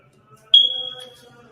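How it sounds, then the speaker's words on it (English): A smoke alarm with a failing battery lets out a single shrill, sustained chirp of under a second that fades into a quiet room, with no one talking. "That's the smoke alarm that needs to be changed"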